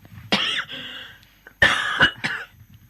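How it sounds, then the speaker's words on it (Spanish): Two sharp coughs, about a second apart, close to the microphone, each a harsh burst with a short rough tail, then quiet. "Es el micrófono el que me da tos"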